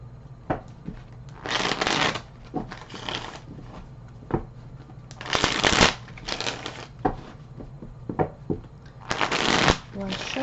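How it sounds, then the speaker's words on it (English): Tarot cards shuffled in three distinct bursts of riffling, each about a second long, separated by quieter handling taps and soft card contact, close and clear. "One shuffle."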